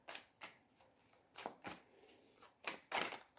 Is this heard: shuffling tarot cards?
yes